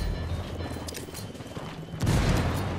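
A frag grenade goes off during a Predator video game match. A heavy, booming blast lands near the end after a stretch of rumbling, crackling battle noise, loud and close.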